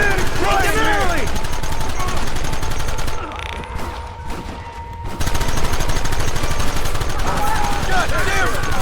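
Gunfire in Red Dead Redemption, dense overlapping shots and rapid volleys with shouting voices over them, briefly dipping to a quieter muffled stretch in the middle before the barrage resumes loud.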